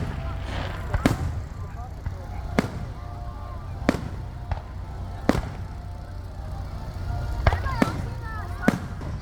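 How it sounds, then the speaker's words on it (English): Fourth of July fireworks bursting over Rockwall, Texas, with sharp, loud explosions about every one to two seconds, a pair landing close together near the end, over a steady crowd murmur and people talking nearby. "Fireworks, 4th of July."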